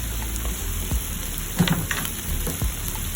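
Cabbage frying in a pan with corned beef and fried saba banana, a steady bright sizzle with a few soft clanks and stirring scrapes breaking through.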